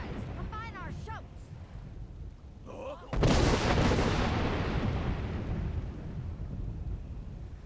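Combined dragon shouts in the Skyrim video game: after a few spoken voice lines, a sudden loud blast erupts and rolls into a long rumbling roar that slowly fades.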